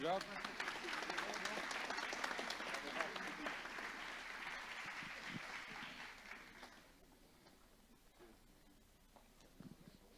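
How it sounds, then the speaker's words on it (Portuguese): A church congregation at a Sunday service applauds, clapping and cheering densely for about seven seconds before it dies away into quieter room sound with a voice speaking. "aplauda Jesus"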